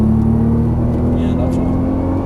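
Nissan GT-R engine droning steadily at high revs on a race track, a loud continuous in-car roar with a strong steady engine tone throughout, while an instructor talks over it.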